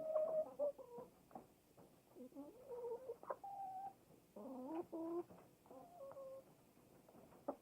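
Hens clucking in an ongoing series of short, varied calls and squawks, fairly close and moderately loud, with brief pauses between bursts and no talking.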